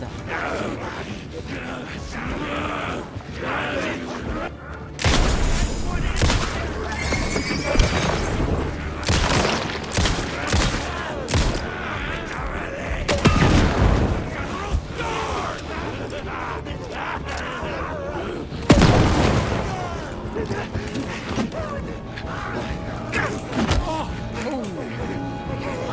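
Gunfire in the survival horror game Alan Wake II, with sharp booming shots and crashes scattered through a dense, busy game soundscape, loud bursts near 5, 13 and 19 seconds.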